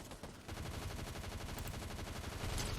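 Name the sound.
gunfire in a video game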